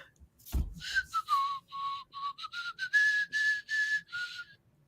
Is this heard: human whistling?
yes